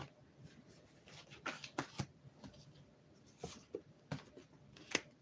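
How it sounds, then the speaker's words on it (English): Tarot cards shuffled and tapped back into a deck, a series of short crisp riffles and soft slaps up close, with quiet rustling in between. "Put these cards back."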